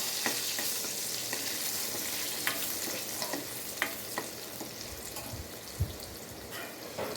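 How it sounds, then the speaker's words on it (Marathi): Turmeric and asafoetida stirred into hot oil for a spice tempering, giving a steady close sizzle with scattered scraping taps and clinks of the stirring spoon, no talk. "फोडणी आपण छान असं हलवून घेतो"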